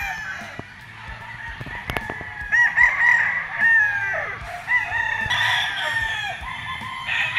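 An imported Harold Brown Grey gamefowl rooster at a gamefarm crows repeatedly. The drawn-out calls ring clearly, with other fowl clucking and calling faintly in the background of the open yard.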